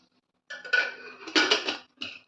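Metal pressure cooker lid clattered and fitted onto the cooker in a kitchen while cooking dal, a few close, sharp clanks and scrapes in quick succession.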